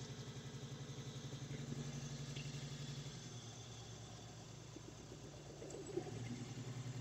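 A car engine idling with one ignition coil set unplugged, running with a steady low throbbing pulse that wavers and drops slightly partway through, heard close and alone without talk.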